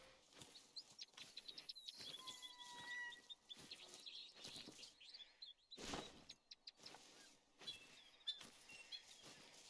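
Digital bird calls chirp in a hunting video game set in the wild, short tweets repeating at moderate distance over faint ambient rustles, with no one talking.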